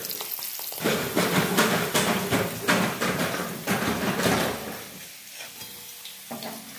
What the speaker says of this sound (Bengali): ক্যাপসিকাম, এটা হচ্ছে বিনস, এটা ভাজবো। গাজরের মতন করে এটা একটু হালকা ফ্লেমে ভাজবো।